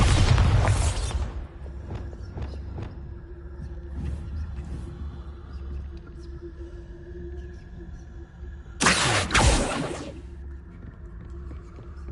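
A Bombarda spell explodes in Hogwarts Legacy: a loud blast opens the clip, a second burst lands near the end, and a low rumble and scattered clatter carry on between them.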